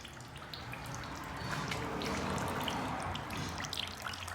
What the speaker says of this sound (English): Now our oil's draining.